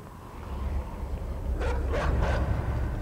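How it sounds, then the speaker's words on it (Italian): Dogs in the dark side-scrolling video game Inside give three quick, sharp barks at moderate distance, over a low rumbling game ambience. "ci sono dei cani."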